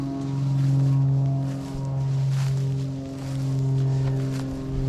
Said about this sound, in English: You might hear a plane in the background.